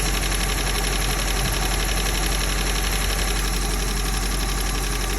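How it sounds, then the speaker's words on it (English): A truck engine idles steadily after a water pump replacement, a loud continuous rumble with a fast, even mechanical ticking and no other voices. "So that is what it should sound like with the new pump."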